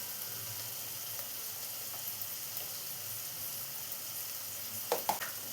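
Tomatoes sautéing in a pan with coriander powder and chilli powder for an aloo palak curry, giving a steady soft sizzle throughout, with a couple of brief stirring clatters near the end and no talking.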